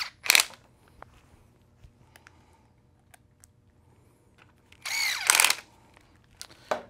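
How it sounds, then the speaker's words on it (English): A power drill drives screws into a panel during assembly of fork and shock parts, two loud close whirring bursts separated by quiet handling clicks. "And then we just run those screws in."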